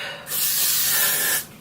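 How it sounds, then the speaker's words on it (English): An aerosol spray can mists hairspray onto curled hair in one steady, close hiss lasting about a second, with no talk. "I'm gonna make sure I try to spray this because it is 97 degrees out"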